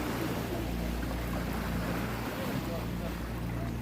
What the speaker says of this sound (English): you can hear the water, but it's being pushed back because there's just barely a boat that passed by